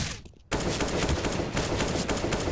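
AK rifle fire in a Counter-Strike match starts abruptly after a brief quiet moment and continues as sustained rapid, loud bursts of shots.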